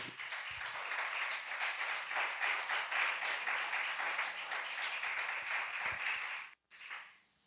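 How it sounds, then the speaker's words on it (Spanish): Congregation at a church service breaks into loud, sustained applause for about six seconds, a dense wash of clapping that cuts off abruptly before a short final burst. "Den un fuerte aplauso a Dios."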